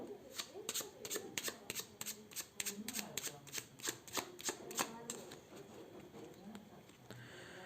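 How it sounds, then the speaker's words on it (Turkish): A small stack of 16 playing cards is riffled and shuffled in quick, crisp bursts of rapid flicking, close and clear, repeating for several seconds before trailing off. "16 kartı alıp karıştırmanız gerekiyor."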